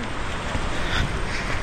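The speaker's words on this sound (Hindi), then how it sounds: "पानी का आवाज़ इतना अच्छा सुन रहा है वाटरफॉल का" Langvoku Waterfall in Karbi Anglong, Assam rushes as a steady broadband roar of falling water, constant and unbroken with no voices over it.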